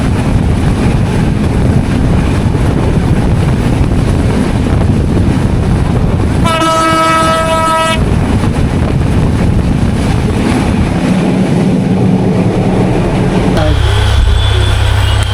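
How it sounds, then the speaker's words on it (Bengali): A passenger train on the Rajshahi to Dhaka route in Bangladesh rumbles loudly and steadily at close range amid heavy wind and track noise, with a brief tonal horn-like blast partway through. "ঠিক তার পাশ দিয়ে ট্রেন চলে যাচ্ছে"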